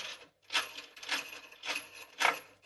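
A nut spun by hand up a threaded bolt with a washer while mounting a workbench vice, four or five short metallic rattling turns with brief pauses between, close and quiet.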